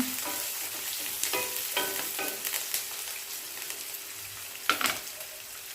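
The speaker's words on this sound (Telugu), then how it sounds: "అట్లనే కరివేపాకు కూడా వేసుకోవాలి ఇదంతా ఒకసారి కలుపుకుందాం" Cabbage curry with curry leaves being stirred in a pan: soft steady sizzling with scattered scraping and clinking strokes of a spoon, one sharper clatter near the end.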